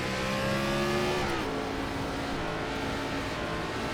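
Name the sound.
NASCAR Gen 4 race car engines accelerating, from the video game iRacing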